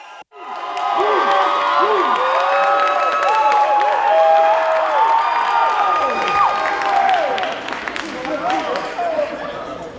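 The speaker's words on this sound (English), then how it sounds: "Clap it up for the Ezenekwes." A campus ministry audience applauds and cheers as the Ezenekwes come up to preach, with bright, sliding musical tones and a voice carried over the clapping before it thins out near the end.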